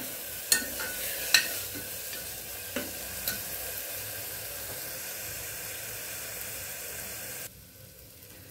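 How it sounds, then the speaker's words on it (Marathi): Raw ground masala paste frying in oil in a pan, a steady soft sizzle with a few sharp scraping taps from stirring early on, continuous and close, cutting to quieter background near the end. "कारण वाटण आपण कच्चंच वाटलेलं आहे हे, त्याच्यामुळे तेलामध्ये छान परतून द्यायचं"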